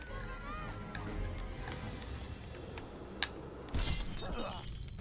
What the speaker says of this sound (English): get cracked glass in your face